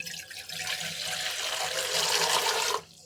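Water drains off soaked rice being prepared for Hyderabadi chicken biryani, a steady close rushing splash that runs for about three seconds and then stops abruptly, with no talk.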